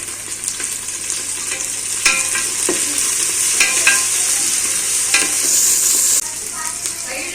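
Mint and onions sauté in a pan for chicken biryani, a loud close sizzle with repeated stirring scrapes and clatters.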